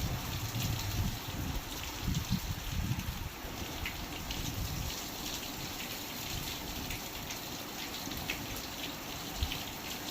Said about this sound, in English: this is light compared to what it was when the rain first came down